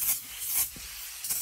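A spray bottle of cleaner spritzes onto a 2021 Silverado Z71's door jambs in three quick, close hissing bursts, each short and breathy, with brief gaps between.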